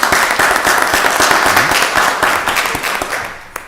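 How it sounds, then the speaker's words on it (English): Audience applause at a Rockdale County Board of Commissioners meeting for the 2024 Gold Bell Seal Award, a steady close burst of clapping that slowly thins and fades, with a final stray clap at the end. "Another round of applause."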